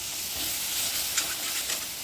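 Tomato paste hits chicken curry gravy made with coconut milk, giving a steady, close sizzling hiss with a few small bubbling pops.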